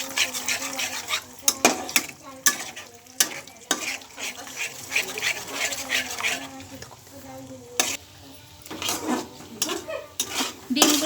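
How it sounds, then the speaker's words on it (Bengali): Eggs salted and scrambled in white oil in a pan, soft sizzling beneath frequent sharp scrapes and clinks of a utensil stirring against the metal, close and irregular. "দিয়ে ডিমগুলো আমি স্ক্র্যাম্বল করে ভেজে নেব"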